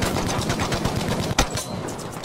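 Rapid gunfire in the video game Firestorm, a dense stream of repeated shots close and loud with one sharper blast partway through, no talking.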